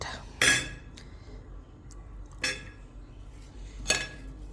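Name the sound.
mixing cucumber and watermelon salad with utensils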